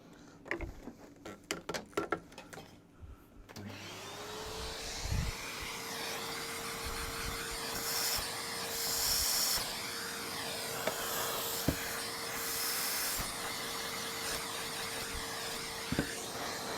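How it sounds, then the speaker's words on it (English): An Electrolux 502 vacuum cleaner switches on after some brief clattering and runs steadily with a droning whine, with a few faint knocks as it works. "let me get my vacuum"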